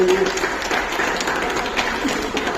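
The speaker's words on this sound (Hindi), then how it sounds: "आप लोग एक बार ताली बजा के स्वागत करें" An audience at a protest sit-in applauds to welcome a comrade, a steady wash of many hands clapping at once that keeps a fairly even loudness throughout, with faint voices mixed in.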